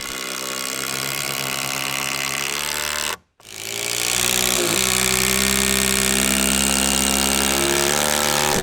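A power tool drives lag screws into a 4x4 timber with a steady, loud, close grinding whine that cuts out briefly and then winds back up to a sustained drone.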